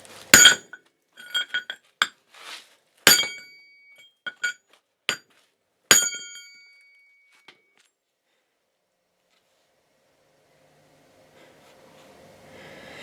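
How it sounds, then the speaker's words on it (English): An axe strikes a welded metal piece in a string of sharp, ringing metallic clanks, some single and some doubled, over about six seconds, followed by near silence. "We'll try the axe. A little bit harder of an object for hitting."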